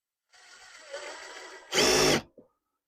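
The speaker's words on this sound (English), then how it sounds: "If I need to switch to the other drill bit, it'll let me go a little deeper." An electric drill whirs steadily as it bores into pear wood, its motor noise continuing for about a second and a half before surging into a loud, dense burst, then cutting off with a brief final blip.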